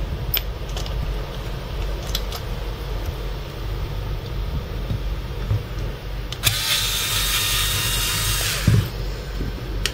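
Star-head screws come out of the driver of an AES Turbo bi-LED headlight with a powered screwdriver: a steady low hum, then a loud whirring burst of about two seconds, with a few small clicks and taps.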